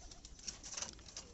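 A pigeon coos softly at a distance in a few low, rolling calls over faint background hiss.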